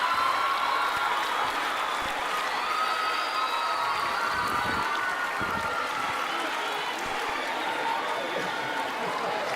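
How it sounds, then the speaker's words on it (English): An audience at the Scifest Africa 2016 grand opening gala applauds continuously, a dense, even roar of clapping with some cheering that stays loud and sustained for about ten seconds. "Please give him another round of applause."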